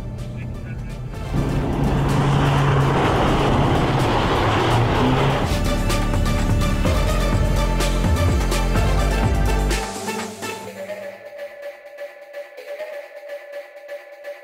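Hyundai race car accelerating hard around the Portimao circuit, a loud sustained engine roar close to the microphone that drops away near the end, leaving a quieter idle.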